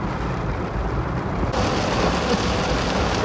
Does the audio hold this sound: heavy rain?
yes